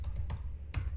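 Computer keyboard keys typed at a terminal, with three quick bursts of clicks over a low steady hum, fairly quiet and close.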